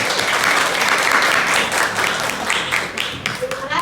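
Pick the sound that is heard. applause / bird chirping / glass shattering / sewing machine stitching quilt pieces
applause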